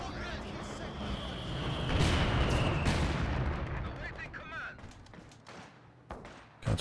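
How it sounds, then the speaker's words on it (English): Mortar shells bursting in a Company of Heroes 2 match: heavy rolling booms swell to a loud peak midway, then fade into scattered crackles and sharp reports, with a final close thump at the end. "There's a bit of friendly fire from the mortars there."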